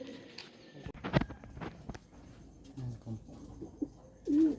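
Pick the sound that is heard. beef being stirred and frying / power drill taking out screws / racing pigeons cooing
racing pigeons cooing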